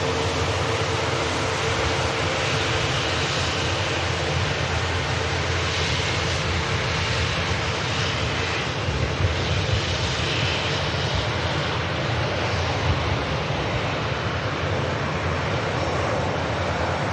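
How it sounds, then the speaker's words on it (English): Jet engines of a Virgin Atlantic Airbus A350 at Manchester Airport roar loud and close, a dense, continuous blast of broad noise with a deep rumble underneath, steady throughout with no voices. "the absolutely stunning Virgin Atlantic 350"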